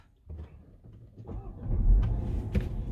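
Range Rover Velar engine starting up, with a low rumbling crank that swells into a moderate idle, heard close with soft mechanical clunks.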